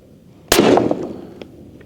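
Single rifle shot fired while sighting in at 50 yards: one sharp, loud crack followed by a short fading echo, alone with no talk.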